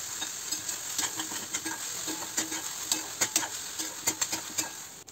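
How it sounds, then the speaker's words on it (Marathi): Chopped tomatoes and green chili paste are sautéed in a pan under a steady, fairly quiet sizzle, with regular light scraping strokes of a spatula growing more frequent toward the end. No speech. "इथे आपण हिरवी मिरचीची पेस्ट घातली आहे, बारीक चिरलेले टोमॅटो घातले आहेत, त्याला परतून घ्यायचं आहे छान प्रकारे"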